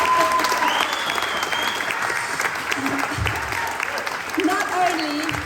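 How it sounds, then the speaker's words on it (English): A crowd at a ball gives Pam a big round of applause, a full, sustained clatter of many hands that fills the room, with a few voices and cheers rising over it now and then. "could I please have a very big round of applause for Pam"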